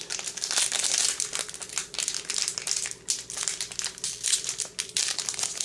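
Someone crinkles and tears at the plastic wrapper of a Final Fantasy trading card booster pack, making close, irregular crumpling bursts with brief pauses.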